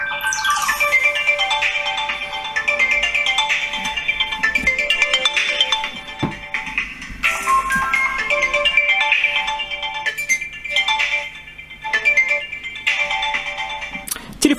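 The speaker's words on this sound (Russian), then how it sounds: "как звучит этот телефончик." A Vivo V21E smartphone plays its ringtone through a mono speaker: a bright, continuous melodic tune, moderately loud and close, with brief dips in the phrasing and no talk over it.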